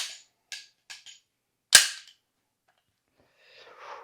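A SIG P320 pistol strikes a hard surface in a drop test. Several sharp clacks ring out close by, and one loud crack stands out, with a faint rattle near the end.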